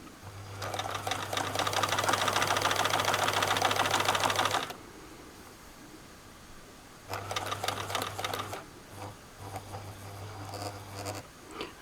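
Sewing machine stitching a seam on jumpsuit fabric, a long loud run of rapid needle chatter over motor hum, a quiet pause, then shorter stop-and-start bursts, close up with no talking.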